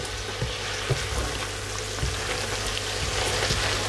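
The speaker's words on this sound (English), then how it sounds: "And just give that a quick mix." Chicken wing curry sizzles steadily in a pan while a quick mix adds soft scraping and light clinks over the continuous frying hiss.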